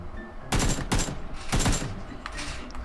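Automatic gunfire in the battle royale game PUBG rips out in several short, loud bursts, with brief pauses between volleys and a fading tail after each.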